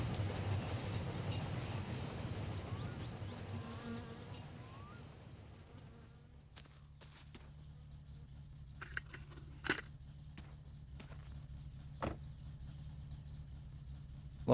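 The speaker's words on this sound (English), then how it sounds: "Good, the train's going past." A train passing by in the game My Summer Car, a broad rumbling roar that fades after about six seconds, leaving a low steady hum with a few sharp clicks.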